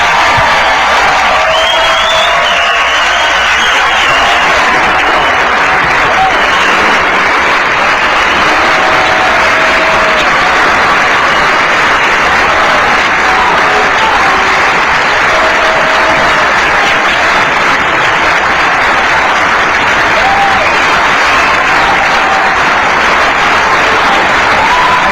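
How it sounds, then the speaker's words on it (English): A large political convention crowd at CPAC cheers and applauds steadily for a Marco Rubio speech, a dense wash of clapping, whoops and shouts sustained loudly throughout. "That cheer, I don't know what that one was"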